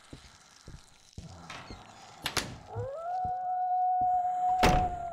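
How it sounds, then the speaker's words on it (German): A door thunks shut in the horror video game We Harvest Shadows, with a few soft knocks before it, then a rising tonal whine and a sharp burst afterward. No talk. "Ja, ich verstehe, dass ihr die Tür zumacht."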